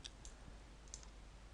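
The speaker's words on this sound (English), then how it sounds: "right mouse click and choose paste" A few sharp, light clicks of a computer mouse, spaced irregularly, close by and quiet.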